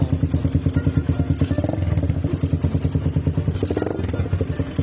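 A Creed motorcycle exhaust revs near and loud in steady rhythmic pulses, with a brief dip near the end before the engine picks back up.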